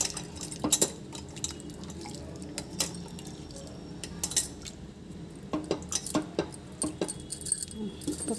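Split lentils being rinsed by hand in water in a metal kitchen vessel, with clinking and sloshing, intermittent drips and scrapes coming in irregular bursts close by, no talking.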